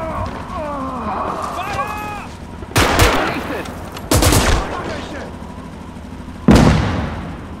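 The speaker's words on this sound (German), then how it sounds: "Sie schießen." Gunfire in the WWII video game Call to Arms - Gates of Hell during a 1939 siege of Warsaw, three loud sharp shots spaced a second or two apart, following a stretch of speech.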